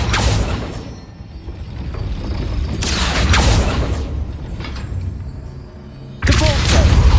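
Accio spell cast in the PC game Hogwarts Legacy, amid a busy game soundscape: a rushing magical surge with bright swooshing bursts recurring several times over rumbling low background, faint voice-like sounds mixed in.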